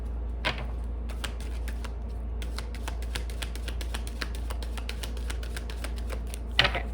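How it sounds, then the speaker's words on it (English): Deck of tarot cards being shuffled, a fast run of crisp, close clicks and riffles over a low steady hum, with a louder flurry near the end. "let's do one more shuffle here"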